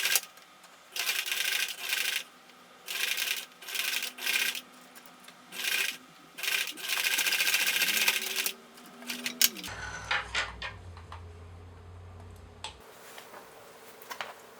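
A sewing machine top-stitches a nose wire pocket onto a fabric face mask liner in a string of short, buzzing bursts separated by brief pauses, ending in one longer run before the stitching stops and quieter handling follows.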